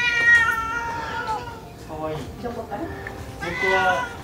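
Cat meowing at an abandoned temple shrine in Japan, several drawn-out, wavering meows close by, with a person talking quietly in between.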